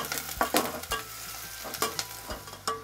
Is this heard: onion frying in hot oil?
yes